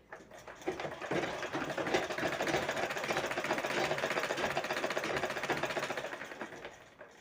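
A sewing machine runs in one steady, continuous whir for several seconds, stitching thin thread piping on a blouse sleeve, close and fairly quiet.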